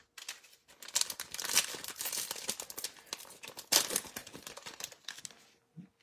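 A cellophane-wrapped pack of basketball trading cards is torn open and handled up close, giving loud crinkling and crackling in irregular bursts with short tearing sounds, and no one speaking.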